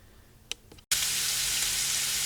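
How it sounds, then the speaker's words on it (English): Bacon bits fry in a pan: after a few soft clicks and a brief hush, a loud, steady sizzle bursts in and continues without a break. "we've got our fry going on here"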